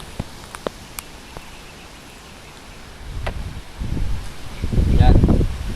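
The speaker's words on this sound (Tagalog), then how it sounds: "So medyo malakas pong hangin" Strong wind blowing outdoors: a quiet start with a few small clicks, then heavy rumbling gusts buffeting the microphone that build and grow loudest near the end.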